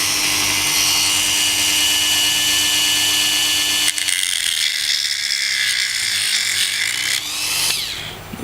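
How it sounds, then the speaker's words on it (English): A high-speed rotary power tool cuts along marked lines in a DIY housing for a Sena Bluetooth audio pack, giving a steady loud whine that shifts pitch partway through as it bites into the material, with no talk over it. "So I'm just gonna cut just on the inside of the lines I made, and then I can always make it a bit bigger"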